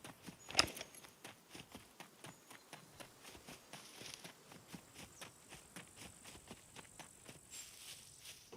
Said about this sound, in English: I heard their footsteps before I heard.